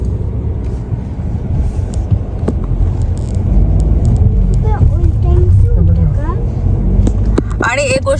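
Cars drive past on a street abroad with a continuous low road rumble that swells midway, while people talk over it throughout.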